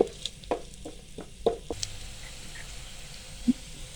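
Chopped onions sizzle softly in hot oil for a samosa filling, with a quiet steady fry and a few sharp stirring clicks and pops scattered through, no talking.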